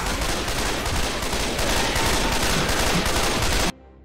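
Dense, continuous gunfire in the zombie shooter game Left 4 Dead 2, loud and unbroken like a sustained fusillade for several seconds before it cuts off abruptly into near silence.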